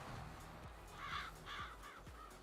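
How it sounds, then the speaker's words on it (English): Crows cawing in Farming Simulator 22, several harsh calls spaced apart over a steady rural background hum, fairly faint and somewhat distant. "Crows."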